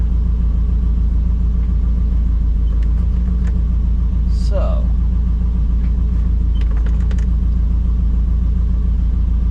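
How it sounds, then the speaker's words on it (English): A car engine rumbles steadily with a low, constant drone while in gear, close by, with a brief spoken word over it. "So when you push it in gear, the car wants to move forward."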